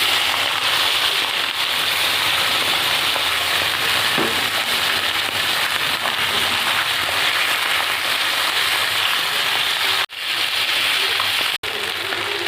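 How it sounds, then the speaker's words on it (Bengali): Small chuno fish fry in hot oil in a pan, giving a loud, dense, continuous crackle and spatter that hardly varies, with two brief breaks near the end. "এবার মাছগুলো ভেজে নেব।"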